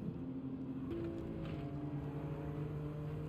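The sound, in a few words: turbocharged car engine in a racing video game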